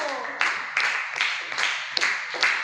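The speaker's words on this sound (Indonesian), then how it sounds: "Beri tepuk tangan untuk kelompok 1" A classroom group claps for group 1, a short run of distinct, fairly loud hand claps at an uneven rhythm.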